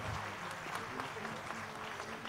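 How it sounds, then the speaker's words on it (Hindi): A concert audience applauds continuously, a dense patter of clapping hands filling the space at moderate loudness. "जोरदार तालियां भाई"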